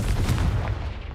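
A Confringo blast spell cast in the Hogwarts Legacy video game, a loud booming burst with rumbling low end that fills the short moment and fades slightly at the end.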